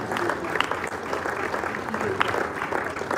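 Audience applause at a business event in a hotel hall as a panelist comes on stage: a steady, dense clapping crowd fills the whole stretch, with a few voices heard faintly under it.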